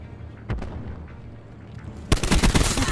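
Galil rifle fire in Call of Duty Black Ops 4, a few scattered distant shots followed by a loud, rapid close burst of automatic gunfire at the end.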